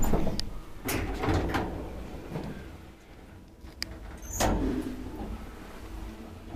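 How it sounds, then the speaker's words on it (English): Folding inner doors of a rare 1999 Kone traction elevator in a Lahti apartment staircase slide and clatter, with a few sharp knocks and a longer rolling rumble near the end, close by. "Folding doors."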